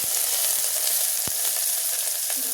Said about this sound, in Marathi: कुकरमध्ये तेल गरम करत ठेवलेलं आहे. चला फोडणी देऊन घेऊया.